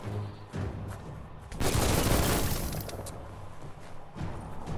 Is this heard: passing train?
no